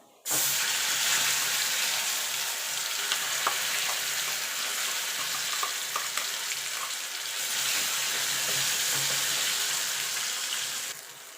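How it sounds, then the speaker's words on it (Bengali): Black cumin seeds sizzle in hot oil as a tempering. The crackling hiss starts abruptly, holds steady and close for about ten seconds with faint scattered pops, then eases off at the end. "ফোড়নে দিয়ে দেবো কালো জিরে"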